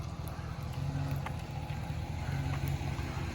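A 1924 Dodge rolls along under tow, giving a steady, continuous low rumble of road and wind noise with no distinct engine note, close and even throughout.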